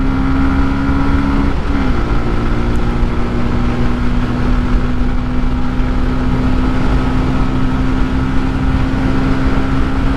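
A Bajaj Pulsar N125 motorcycle runs at top speed with a loud, steady engine drone and heavy wind rush, the engine pitch holding nearly constant after a brief shift early on, with no talk.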